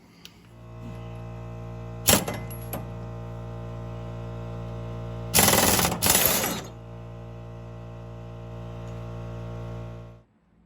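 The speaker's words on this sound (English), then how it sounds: "what I do is I have an impact wrench, and it just makes it easier on me" Impact wrench loosening the bolt on a lawnmower blade: a short rattling burst around two seconds and a longer, louder hammering burst near five to six seconds, over a steady humming background with no talk.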